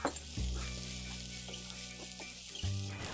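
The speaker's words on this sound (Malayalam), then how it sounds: "ഇപ്പോൾ സവാള ഒരു 1/4 ഭാഗം വഴന്നു വന്നിട്ടുണ്ട്." Onions sautéing in a little oil in a pan, salted to soften faster, for a crispy bread roll filling: a steady close sizzle throughout with low stirring thumps at the start and near the end, no talking.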